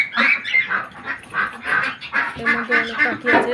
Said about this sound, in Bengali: এর মধ্যে অনেক পাখি আছে